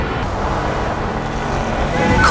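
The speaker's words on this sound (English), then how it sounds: "Rush hour in the city is truly something else." Rush-hour traffic on the Las Vegas Strip rumbles loud and close, a continuous wash of car and engine noise that holds steady and grows slightly heavier at the end.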